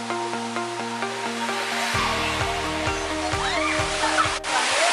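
The Curug Bidadari Menangis waterfall at Pancurmas roars steadily, a broad continuous rush partly overlaid by background music.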